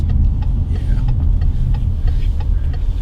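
A Subaru Outback cruises and eases off speed, a steady low engine and road hum inside the cabin with faint ticking of a turn signal, close and continuous.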